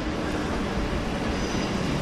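A British Rail Class 455 train rumbles into a London station with a dense, steady roar of wheels on track, loud and close with a faint high squeal above.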